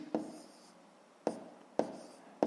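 A pen writes numbers by hand on paper, giving three or four short, distinct scratching strokes spaced about a second apart, close and fairly quiet against a silent background.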